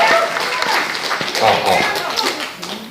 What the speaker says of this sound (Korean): 이영풍 기자님 5분 여러분 큰 박수로 모시도록 하겠습니다.